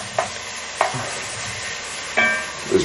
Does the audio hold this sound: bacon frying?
yes